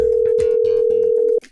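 A telephone dial tone sounds as one loud, steady, unbroken tone for over a second and then cuts off abruptly, with no voices over it.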